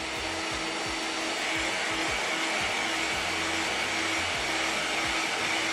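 A hair dryer blows steadily on primer freshly sprayed onto an ABS RC car body, a loud, continuous whirring rush with a fluttering low motor hum underneath.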